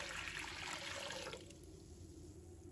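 Clear water is poured into a cooking pot with a soft, splashing gush for about a second and a half, then cuts off, leaving quiet room tone; faint overall.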